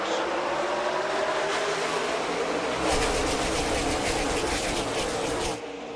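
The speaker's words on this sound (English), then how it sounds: "Back in front of the grandstands and back up through the gears." NASCAR Xfinity race cars at Pocono Raceway accelerate past the grandstands through the gears, a loud, dense roar of several engines that swells midway and cuts back near the end.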